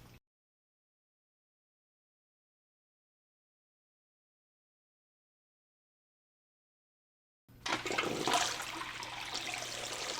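Water rushing and gurgling through an Oase BioMaster 600 aquarium canister filter, starting abruptly after a long silence and continuing as a steady, fairly loud broadband flow.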